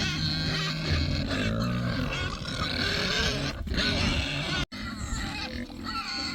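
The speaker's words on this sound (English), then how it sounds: "Got some hungry pigs" Hungry pigs grunting and squealing at feeding time around straw by a fence, a continuous loud jumble of grunts with no breaks.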